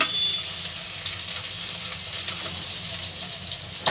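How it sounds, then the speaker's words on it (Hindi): Garlic, added after fenugreek seeds, frying in hot oil for an aloo baingan sabzi, a steady close sizzle with soft stirring scrapes running throughout, no voices. "मेथी के बाद लहसुन डालेंगे, थोड़ा सा इसे चलाएंगे।"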